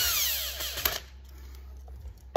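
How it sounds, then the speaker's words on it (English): A screw gun tightens the screws on a 28mm carburetor, with a short whirring burst of the motor near the start that fades into a quiet background, then a sharp knock at the end. "Grab your screw gun. Tighten them back down."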